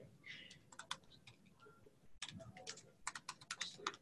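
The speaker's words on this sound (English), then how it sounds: "my typing is bad this morning" Rapid, uneven keystrokes on a computer keyboard during a Metasploit demo meeting come in short bursts of clicks, fairly close but quiet, with faint background noise between strokes.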